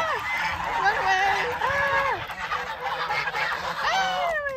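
Geese in rural China honk loudly and repeatedly in a flock, harsh overlapping calls rising and falling close by with brief gaps, then a final burst of honks.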